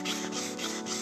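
Wood being sanded by hand with sandpaper while assembling and finishing a wooden base, a close, continuous rough rubbing with rhythmic back-and-forth strokes.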